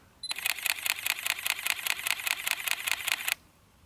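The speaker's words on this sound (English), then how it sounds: "It uses an electronic first curtain shutter, and if I switch it to continuous shooting," A rapid burst of Sony Alpha A7R II electronic first curtain shutter clicks in continuous shooting, about a dozen evenly spaced snaps over three seconds, crisp and close, then silence.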